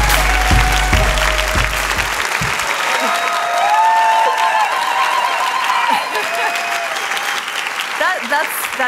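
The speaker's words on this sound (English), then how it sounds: "huge round of applause, please," Large festival audience breaks into loud applause and cheering at a talk event, dense clapping filling the room for several seconds with a few whoops, while a low voice or stage sound thumps briefly at the start.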